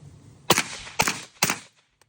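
A suppressed rifle fitted with a Delta Team Tactical forced reset trigger fires three semi-automatic shots at even half-second intervals. Each shot is a sharp, close crack followed by a short muffled tail.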